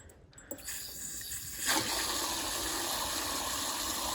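Water from a newly connected hose sprays onto a calf. After a short quieter start, a loud, steady hiss and splatter comes in and runs on unbroken.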